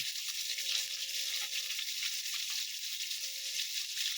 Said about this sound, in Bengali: এবার মাছটা ভাজা হচ্ছে